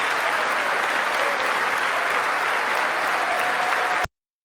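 A standing audience applauding, likely in a large chamber, sustained dense clapping at an even level for four seconds before cutting off abruptly.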